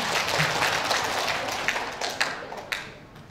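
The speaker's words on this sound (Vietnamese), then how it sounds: "Vỗ tay to lên thì sáng chưa sáng" Seminar audience at a sales and marketing team-building workshop claps loudly together, a dense sustained round with a few sharper claps standing out as it begins to thin toward the end.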